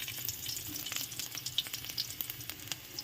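Garlic sizzles in hot cooking oil at the start of a Filipino ampalaya and black bean dish, a steady close crackle with scattered sharp pops and light stirring throughout.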